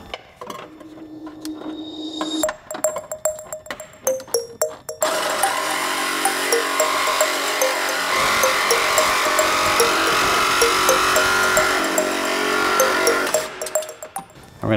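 Cutting a plastic wiring harness clip off a stud near the firewall during an LS engine swap on an FRS, heard as sharp snips and clicks followed by a sustained loud grinding buzz.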